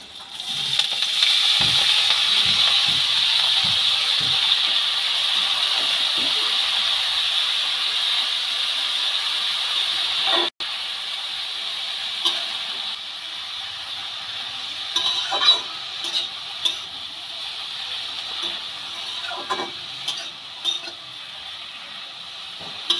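Chopped beto greens fry in fish oil with green chilli and garlic, a continuous hissing sizzle that softens midway as stirring brings scattered clicks and scrapes, heard alone without talk.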